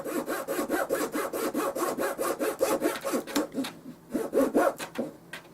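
A small hand saw cuts little wood pieces for a dollhouse miniature refrigerator, rapid back-and-forth strokes rasping close and steady, then slowing into a few separate strokes with short pauses.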